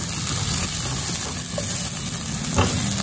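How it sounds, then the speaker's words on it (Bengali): Bitter gourd and eggplant stir-frying in a pan over a medium flame with turmeric, a steady close sizzle and scraping stir throughout with no talk. "এবার অনবরত নেড়ে নেড়ে উচ্ছে বেগুনটা ভাজবো"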